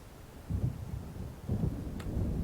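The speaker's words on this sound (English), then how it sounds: "It seems there's a storm coming." Low rolling rumbles of thunder from an approaching storm in the video game Alan Wake, two deep swells a second apart with a faint rain-like hiss beneath, distant and moderately loud.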